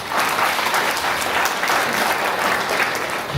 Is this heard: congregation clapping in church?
yes